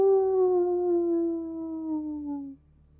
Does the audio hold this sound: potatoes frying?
no